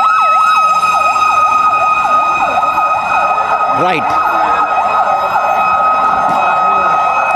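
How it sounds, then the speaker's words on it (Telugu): A fire engine arrives at a mock fire drill in Hyderabad, its wailing siren sweeping up and down loudly and steadily with a constant high tone, while someone briefly speaks over it. "సో చూడండి, అదిగో ఫైర్ ఇంజన్ వచ్చింది"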